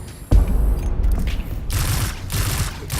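Gunfire in Destiny 2's Curse of Osiris: a sharp close shot, then a few more bursts of firing spaced across about three seconds amid game ambience.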